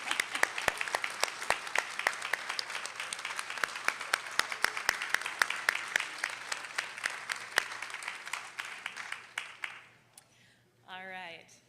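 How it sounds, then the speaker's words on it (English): Graduating students at a health sciences university commencement applaud their loved ones with loud, sustained clapping that fades out near the end, followed by a brief voice. "give them a huge round of applause"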